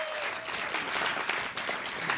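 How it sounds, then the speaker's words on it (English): Audience at a dating game show applauding, a brief continuous wash of clapping heard at moderate level throughout. "Give them a round of applause."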